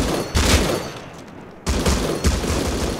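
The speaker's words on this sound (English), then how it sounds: "I'm shooting that thing." Gunshots ring out in the survival game Rust in a few heavy bursts, loud and close with booming tails, separated by a short lull.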